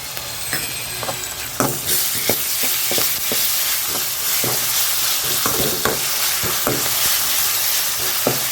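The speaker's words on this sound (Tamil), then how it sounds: "இப்போ இஞ்சி பூண்டு பேஸ்ட் போட்டுடலாம்" Ginger garlic paste frying with partly softened onions in a pan for a green peas kurma, with steady close sizzling and repeated scraping stirs throughout, no voices.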